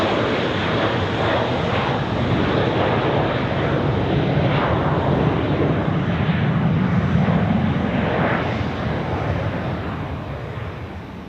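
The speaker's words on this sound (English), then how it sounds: "So, more or less smooth transition over to the United Airlines 767. It's landing right now." A United Airlines Boeing 767 landing at Zurich Airport, its engines a loud continuous roar that holds steady for several seconds and then eases slightly as the jet slows.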